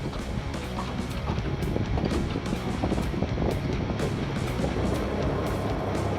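A two-stroke outboard engine on a small aluminium tinny runs hard on the Murray River at a dinghy derby, a loud, continuous, rough buzzing drone mixed with wind and water rush, close to the microphone.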